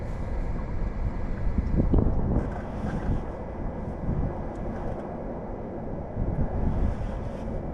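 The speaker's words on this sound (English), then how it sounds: "Wow, that wind's picking up." Strong gusting wind buffets the microphone out on a fishing boat on open water, a steady broadband roar with louder surges, no voices.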